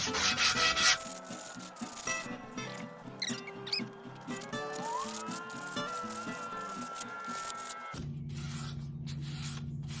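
Rusty patches on a car body being hand-sanded while it is readied for a hot rod tour, giving steady squeaky scraping and rubbing strokes throughout, close and fairly loud, with a lower droning hum taking over near the end.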